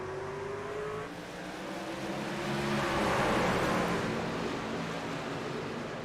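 Race cars accelerate hard at a restart once the pace truck pulls off, their engines building into a dense, continuous roar that swells to its loudest midway and stays steady to the end, with no talking.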